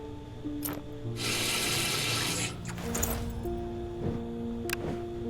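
A tap runs in the video game Dreamwalker, giving a burst of rushing water about a second long amid mechanical clicks and soft tonal game sounds.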